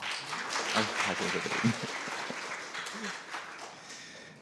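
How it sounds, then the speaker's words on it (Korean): Audience applause welcoming a presiding judge at a guardianship conference session, a soft, steady patter of clapping heard from a distance with faint voices mixed in. "큰 박수로 맞이해 주시기 바랍니다."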